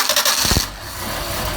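A Mercedes 190SL engine with a Solex carburetor, pulled on choke, cranks with several quick turnover pulses, then catches and settles into a steady idle close to the listener.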